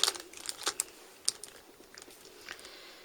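Scissors snipping and trimming a cabochon, a series of small dry clicks and crisp cuts at irregular intervals, close and fairly quiet, with no talk.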